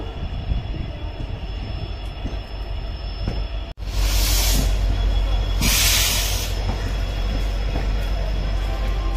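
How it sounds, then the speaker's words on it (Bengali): A train stands at Bandel Junction station, with a steady low rumble and hiss throughout, a sharp clunk partway through, and two loud bursts of hissing air after it. "এই ট্রেনই একদম পুরো যাবে সোজা কাটোয়াতে।"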